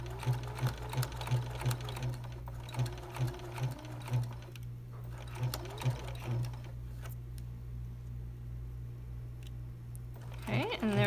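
A sewing machine runs in close, steady bursts of rapid stitching while guiding a quilt piece around a curve, with short pauses between runs and a faint rustle of fabric near the end.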